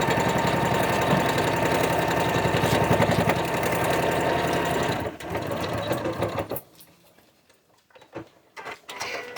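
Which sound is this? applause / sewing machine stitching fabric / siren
sewing machine stitching fabric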